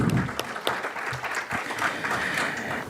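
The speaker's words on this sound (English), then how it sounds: "Come on, audience, you can be much more gracious with your round of applause" An audience at an awards conclave panel applauding, a dense round of clapping from many hands that holds steady throughout, moderately close.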